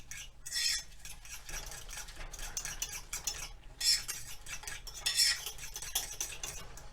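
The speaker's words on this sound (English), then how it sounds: "Whisk that together." A whisk beats wet ingredients for a low-carb, gluten-free meatloaf in a bowl, producing quick rhythmic scraping and clinking bursts that swell and fade over several seconds, close up with no talking.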